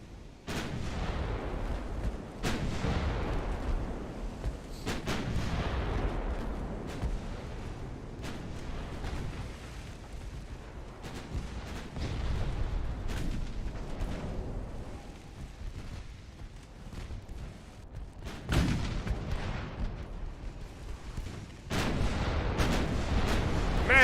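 In a naval battle video game, heavy gunfire and a torpedo detonation boom again and again in deep, rumbling blasts with sharp cracks between them. The battle runs on for a long stretch with no talk.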